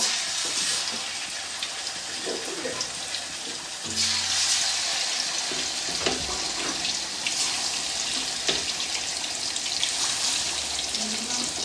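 Chicken pieces fry in hot oil, with a steady, close bubbling hiss that swells as more pieces go in, holding at a moderate level.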